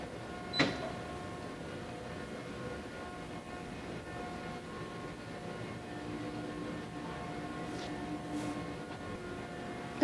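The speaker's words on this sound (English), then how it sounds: "the servo gantry system will come to place to pick up the basket and move it into the first tank" A servo gantry system on an automated gravity-feed three-step cleaning machine carries a basket toward the first cleaning tank, giving a steady low mechanical hum with a faint click near the start and soft whooshes later, with no voices.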